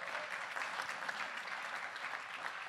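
An audience at a big band concert applauds steadily, a dense, even wash of clapping heard from across the hall that holds at the same level throughout, with no voices over it.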